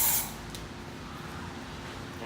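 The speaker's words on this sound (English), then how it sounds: "So I'm gonna just keep spraying that around." An aerosol can spraying rubber coating paint onto car rims, a loud hissing burst at the start that falls away into a quieter hiss.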